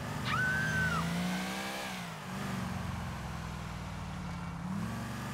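A stolen car's engine drones steadily while driving in GTA IV, rising and falling gently as it revs, with a brief high squeal near the start; no one speaks.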